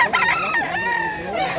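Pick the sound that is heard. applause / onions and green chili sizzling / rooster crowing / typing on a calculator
rooster crowing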